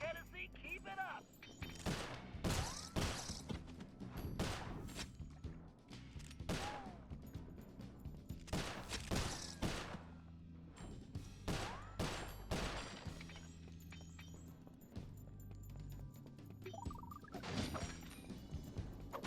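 Enemy gunfire in the video game Sly Cooper: Thieves in Time, sounding as repeated loud cracks and smashing impacts in a dense, busy mix under game music and effects, with bursts scattered throughout.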